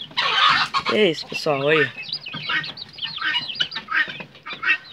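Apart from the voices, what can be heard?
guinea fowl and chickens clucking in a backyard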